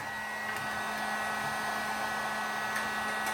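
A heat gun blows with a steady, even whoosh and a constant tonal hum while shrinking a BOA hose clamp, running alone and close for the full stretch.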